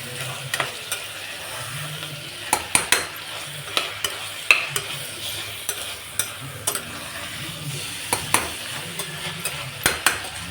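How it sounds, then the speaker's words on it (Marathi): Usal, a sprouted legume curry, fries in a pan while a spoon stirs it, giving a continuous sizzle broken by repeated sharp scraping knocks at an uneven pace, close and fairly loud with no talking. "त्यावर ही उसळ फ्राय होते"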